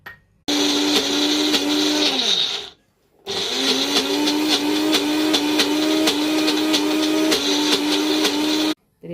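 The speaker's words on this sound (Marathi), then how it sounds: "आता याची बारीक अशी मिक्सरला पेस्ट तयार करून घेऊ आपण" A kitchen mixer grinds ginger, garlic and mint into a fine paste for soup, running loud and whirring in two long bursts separated by a short stop, with no talking.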